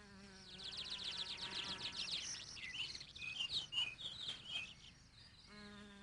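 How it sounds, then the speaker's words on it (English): A cricket chirps in rapid trilled bursts outdoors near a fox den, the pulses close and clear over quiet background, with a brief bird-like tone at the end. "This cricket now seems strange to him."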